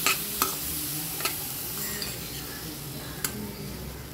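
A spoon stirs roasted semolina in a pan as milk is added for rava gulab jamun. Soft scraping and a gentle sizzle continue throughout, with a few sharp taps of metal against the pan.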